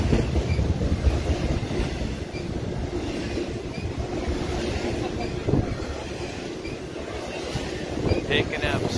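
A train rolls past close by at Fullerton station at night, a continuous rumbling roar with rail clatter and wind rush from the passing cars as it picks up speed.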